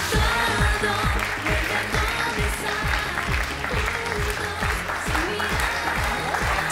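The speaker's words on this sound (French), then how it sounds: "Je vous demande d'applaudir Mian et Mélissande" Studio audience applause on a French TV talk show, sustained and loud for several seconds, with a steady rhythmic beat running beneath the clapping.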